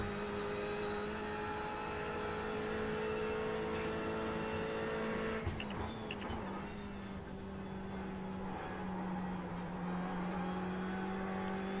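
A race car engine in a racing video game at Bathurst whines steadily at a fairly constant pitch during a warm-up lap, quiet and alone, with one brief rough burst partway through.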